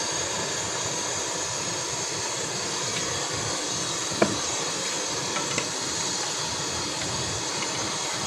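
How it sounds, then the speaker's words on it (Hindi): Continuous loud hiss of steam from a pot of beef cooking for over half an hour with the lid lifted, a steady broadband rush with a couple of faint clinks, no voices. "एक बार ढक्कन उतार के चेक कर लेंगे।"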